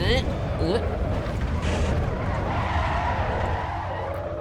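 A car in the Assetto Corsa EVO racing game skids through a full 360-degree spin, with a loud, sustained tire scrub and engine roar running steadily throughout at close range.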